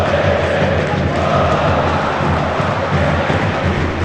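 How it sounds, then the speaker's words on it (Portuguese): Stadium crowd at Allianz Parque, Palmeiras supporters roaring and chanting for forward Vitor Roque, a dense, steady wall of many voices sustained loudly throughout. "O Tigrinho é exaltado pela torcida no Allianz Parque."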